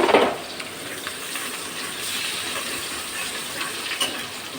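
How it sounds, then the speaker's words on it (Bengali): Onions fry in oil in a pan, giving a steady, close hiss and sizzle with an occasional faint clink, loudest at the start. "পেঁয়াজটা একটু লাল লাল করে ভেজে নিলাম"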